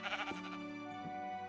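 A sheep in the video game Minecraft lets out a wavering bleat that trails into a second, softer bleat, clear and close with no speech.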